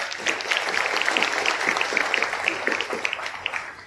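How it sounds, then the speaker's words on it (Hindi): An audience claps loudly at a student felicitation ceremony, a dense burst of applause that fills the room and continues throughout. "आप उनके लिए एक जोरदार तालियां बजाएं"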